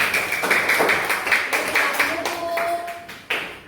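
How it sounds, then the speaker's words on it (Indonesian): Classroom group clapping for a group of students, a brisk round of hand claps with uneven rhythm, close and fairly loud, with some faint voices mixed in. "Tepuk tangan untuk kelompok dia."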